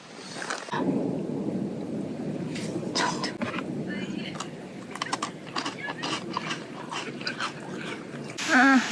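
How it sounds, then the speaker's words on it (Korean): Thunder rolls during an evening thunderstorm near Plitvice Lakes, Croatia: a steady low rumble that fills the whole stretch, with scattered sharp crackles and a louder burst near the end. "천둥번개가 지금 가끔 치고 있어요"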